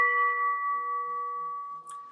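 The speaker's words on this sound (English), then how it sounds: "That is the sound of heavy lead cut glass." Heavy lead cut glass flicked once, ringing with a clear, steady sustained tone that holds for about two seconds with a faint touch near the end, alone and close.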